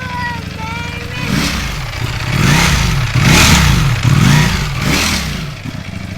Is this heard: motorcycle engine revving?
yes